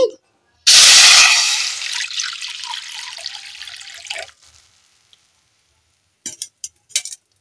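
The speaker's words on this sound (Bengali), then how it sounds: "এই পরিমাণে জলটা দিয়ে দিলাম, 150 গ্রাম ডাল" Water pours from a tap into a pot for boiling lentils, a loud rushing stream for several seconds that tapers off, followed by a few brief drips and clinks.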